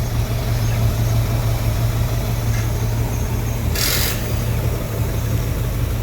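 A 1984 flatbed truck engine idles steadily on its own after years of sitting, a continuous low rumble with even mechanical hum and a brief brighter hiss partway through.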